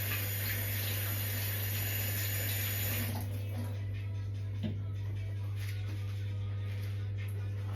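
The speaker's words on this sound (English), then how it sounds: "Let me just wash my hands." Hands being washed under a running kitchen tap, a steady close rush of water that is loudest for the first few seconds, then settles to a softer, even flow.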